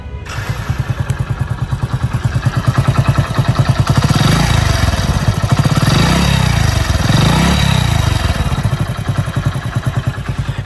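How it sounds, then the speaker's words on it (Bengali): A Hero Splendor motorcycle engine idles loud and close after a long tour, with a fast even thumping rhythm and a metallic clatter that swells slightly and settles. "ভাই ইঞ্জিনের নয়েজটা কেমন সেটা একটু শুনিয়ে দিই"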